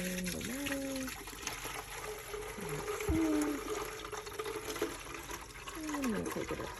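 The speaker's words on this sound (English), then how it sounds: "I'm going to go ahead and pour in the water." Water poured into the reservoir of a programmable 14-cup glass-carafe coffee maker, a soft trickling fill with a few gurgling pitch sweeps, quiet and close, under faint background noise.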